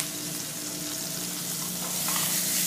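Beef sears in a hot pan for a pot roast, giving a steady, loud, close sizzle that holds constant throughout with no talking.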